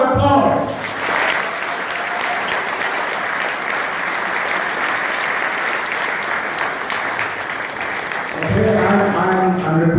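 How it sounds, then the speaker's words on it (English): An audience at a Times Group technical education event claps in a sustained round of applause lasting about eight seconds, with a speaker talking just before and after. "A round of applause."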